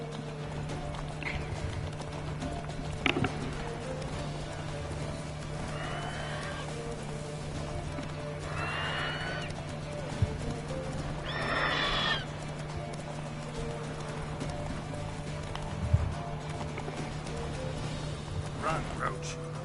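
Hooves of a horse in The Witcher 3 clip-clop steadily through the clip, joined by several short, strained whinny-like cries midway, all over a constant low game hum and ambient noise.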